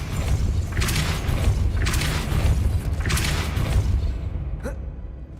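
A Depulso force spell cast in the Hogwarts Legacy video game gives a series of three loud, rushing whooshing bursts evenly spaced, followed by a brief sharp tick as the sound falls away.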